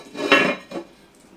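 A lid set down over a cooking pot of turkey berries and spinach, giving two close metallic clanks, one louder then a softer one, with no talk.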